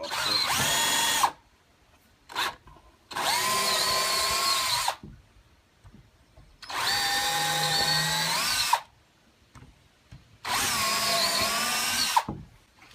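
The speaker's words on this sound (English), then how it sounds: "You want to pre-drill because cedar tends to crack very easy." A power drill bores pilot holes into cedar boards for a garden box, running in four loud sustained bursts of a few seconds each, separated by near-silent pauses, with the motor pitch shifting under load and no talking.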